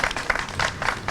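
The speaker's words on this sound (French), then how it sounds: "Vous pouvez applaudir pour lui quand même, on est là pour ça." Brief, fairly close applause from an audience at a speech honoring a prize winner, a dense burst of clapping lasting about a second.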